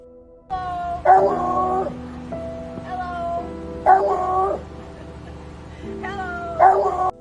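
A dog gives repeated whimpering, whining yelps and short barks in bursts, fairly close, over a steady low hum with no talking.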